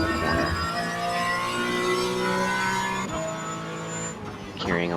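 A race car corners at Watkins Glen, its engine note sustained and loud with shifting harmonics as it brakes and carries speed around a cambered groove, the pitch dropping briefly partway through before climbing again.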